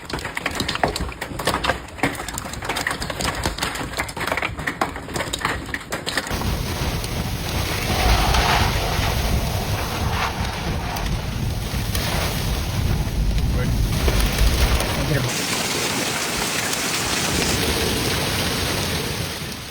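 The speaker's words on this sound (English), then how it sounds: "heavy rain and hail sharply reduced visibility on highways" Heavy rain and hail batter down during a severe Iowa storm with strong winds, making a dense, loud roar of broadband noise with gusty wind buffeting throughout.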